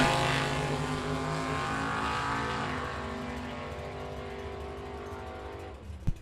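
Loud 1969 Chevrolet Camaro Super Sport roaring down the strip in a bracket drag race, engine noise steady and strong at first, then easing and fading as it pulls away, with a brief knock near the end.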